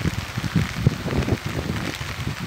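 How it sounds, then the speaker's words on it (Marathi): Heavy rain drums on a tent during night camping, a dense close patter with uneven thumping gusts of drops, loud and steady with no voices. "पाऊस जोरात आला."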